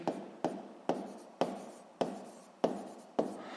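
A hand writes a Hooke's law physics equation, giving seven quick, quiet scratching strokes in a steady rhythm, each a short rasp that trails off, with no voices.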